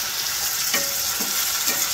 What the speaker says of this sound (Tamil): இந்த வெங்காயம் பூண்டு நல்லா வதங்கின உடனே தக்காளியை போட்டுக்கோங்க.